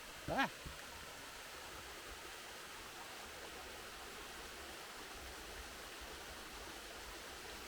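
Faint, steady rushing of a distant waterfall cascade on the Great Range Loop trail, a soft broadband hiss, with a brief knock near the start.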